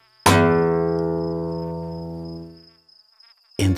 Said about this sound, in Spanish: un zumbido lo despertó.